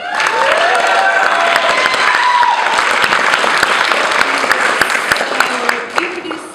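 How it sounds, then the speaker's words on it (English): A large crowd in a theater audience applauds loudly and continuously at a bookstore-hosted talk, dense clapping with scattered sharp claps and faint cheers throughout. "Feel free to clap."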